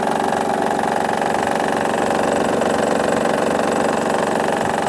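A Honda Odyssey minivan engine with a faulty timing belt tensioner idles steadily with a fast, continuous mechanical ticking and rattling over its hum, close and unchanging throughout.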